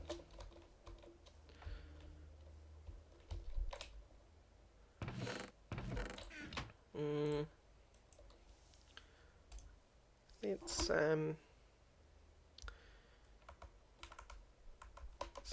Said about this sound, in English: I'm fiddling with my keyboard